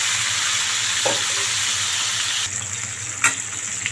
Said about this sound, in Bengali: এখন একটা একটা করে মাছগুলো ভেজে নেব